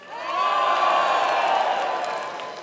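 A large, young crowd of Conservatives at a Wembley hustings breaks into loud cheering and whooping that swells quickly, holds, and then slowly fades.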